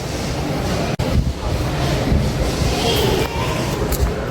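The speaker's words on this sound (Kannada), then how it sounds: "ಫುಲ್ಲು ತಣ್ಣ ಗಾಳಿ, ಒಳ್ಳೆ ವೆದರ್" Cool wind blows steadily outdoors, a loud, continuous rushing roar buffeting the microphone, with brief gusts and no clear talking.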